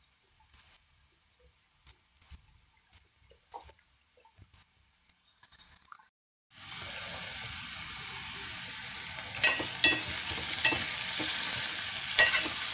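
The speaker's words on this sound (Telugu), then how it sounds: "బాగా వేగాలండి ఇవి దోరగాని." Pesarattu curry ingredients with salt and turmeric fry in a pan. Quiet scattered clinks and taps come first, then a sudden loud, steady sizzle starts partway through, with stirring scrapes and clatters over it.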